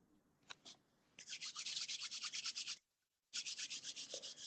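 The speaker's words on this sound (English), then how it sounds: "And then rub your hands together." Hands vigorously rubbing together, a fast rhythmic swishing friction close up, running in a steady burst, pausing briefly, then resuming.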